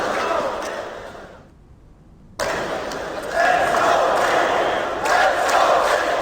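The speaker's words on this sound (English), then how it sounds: "now the crowd are coming to life" An arena crowd at a CS:GO esports quarterfinal, PGL Krakow 2017, roars and cheers in a loud, dense wash of noise that briefly dips and then surges back stronger.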